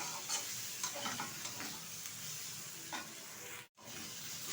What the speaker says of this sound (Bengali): মশলাটাকে দিয়ে ভালোভাবে কষিয়ে নিয়েছি